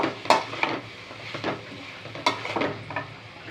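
Onion being stirred in a frying pan: soft sizzling beneath a few distinct scraping strokes of a utensil against the pan, close and moderately loud, no talking.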